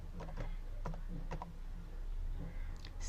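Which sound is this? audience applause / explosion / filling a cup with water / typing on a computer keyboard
typing on a computer keyboard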